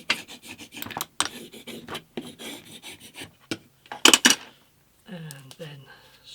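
A masking-taped radius block scrapes back and forth over a guitar fretboard in short, rhythmic rubbing strokes, close and dry, with a couple of brief sharper rasps and quiet talk in between.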